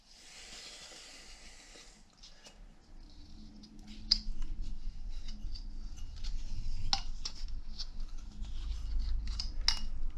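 Trimming excess material while fitting a basin waste, a series of sharp little snips and clicks over a rising hiss and low rumble, close up and moderately quiet.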